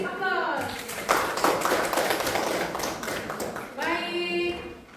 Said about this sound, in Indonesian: Silakan dari aplaus.